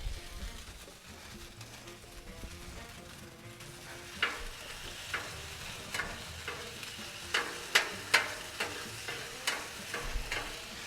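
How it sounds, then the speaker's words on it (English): Chorizo frying on a Blackstone griddle, a soft steady sizzle under a series of sharp scraping taps from a spatula stirring and chopping the meat on the flat steel surface. "This chorizo right here smells so good."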